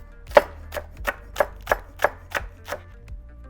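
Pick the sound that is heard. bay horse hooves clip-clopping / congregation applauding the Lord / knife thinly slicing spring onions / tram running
knife thinly slicing spring onions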